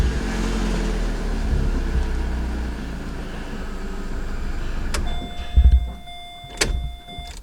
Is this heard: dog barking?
no